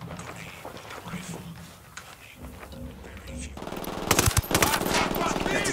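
Gunfire in the video game Ghost Recon Wildlands, a few sharp shots and a short burst growing louder near the end, over a busy game soundscape and voice chatter.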